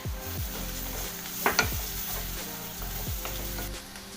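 Onion frying in a pan with crushed ginger, garlic and four chopped green chilies for chicken cutlets, a steady close sizzle with a few stirring scrapes and clinks, no voices.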